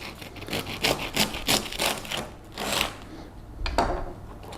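A knife saws through a crusty homemade baguette, giving a close series of rhythmic crackling, crunching strokes that fade near the end, followed by a single sharp knock.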